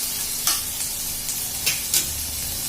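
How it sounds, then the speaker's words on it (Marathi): Fresh grated coconut sautéing in a pan until brown, for a Konkani-style sev bhaji, makes a soft continuous sizzle broken by several sharp scraping strokes of a spatula, heard close and alone. "ओलं खोबरं त्याच्यात थोडं ब्राऊन होईपर्यंत परतून घ्यायचं"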